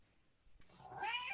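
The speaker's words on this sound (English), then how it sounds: "you can hear my cat in the background" A pet cat meows once in the background indoors, a rising, wavering cry that swells near the end of a quiet moment, fairly soft and somewhat distant.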